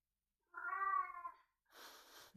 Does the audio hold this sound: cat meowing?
yes